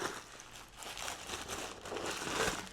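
Paper stuffing crinkles and rustles as it is pulled out of a new Chanel Cruise 26C handbag during an unboxing, a steady close-up crumpling that swells toward the end.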